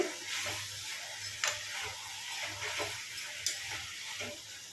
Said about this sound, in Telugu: నూనెలో మంచిగా ఫ్రై కావాలండి గోంగూర